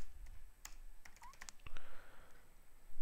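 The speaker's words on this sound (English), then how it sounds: "And let me type the password." A password is typed on a computer keyboard while an openLDAP server is configured on Ubuntu, giving a quick, quiet run of uneven key clicks over faint background hum.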